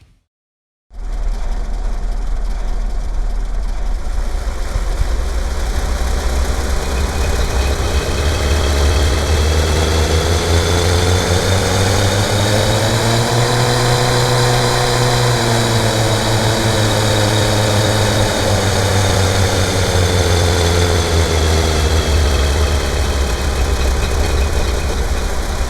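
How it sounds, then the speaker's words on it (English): Layered vehicle engine and exhaust loops from a video game built in Wwise and Unreal Engine 4, a loud continuous drone whose pitch sweeps up and back down, steady and alone, with no talk. "layering together the exhaust and engine sounds"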